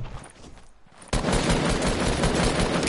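A silenced SMG firing in a PS4 shooter, a dense sustained burst of rapid shots that starts abruptly after a quieter moment and stays loud to the end.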